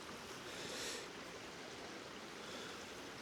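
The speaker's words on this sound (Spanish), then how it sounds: "Y el río, que la verdad que esto seguramente en otro momento estará incluso seco, pero mira cómo corre en estos momentos." A river near a stone bridge in the village of Castaño del Robledo runs steadily, giving a continuous soft rushing wash heard from a short distance, with no voices.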